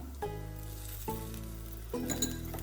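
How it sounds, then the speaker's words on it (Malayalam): Oil sizzles steadily on a parappappam, a special kind of dosa, frying on a hot pan, with a continuous hiss under louder tonal background music and no talk. "നമുക്ക് കുറച്ച് ഓയിൽ, 1 ടീസ്പൂൺ ഓയിൽ എടുത്തിട്ട് ഇങ്ങനെ ഒന്ന് ഒഴിച്ചു കൊടുക്കാം"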